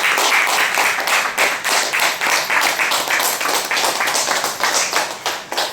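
Guests at a girl's birthday celebration clap together, a dense, fast, even patter of many hands that stays loud and continuous throughout with no talking.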